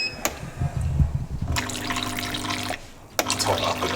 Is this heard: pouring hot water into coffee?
yes